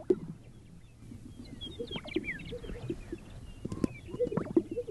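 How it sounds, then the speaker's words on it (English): Repeated low, bubbling pops and gulping notes from displaying sage-grouse, mixed with faint bird chirps in an open outdoor setting in spring. "The sage-grouse, however, bubbles away, expanding air in and out to wrangle a hen to his parade."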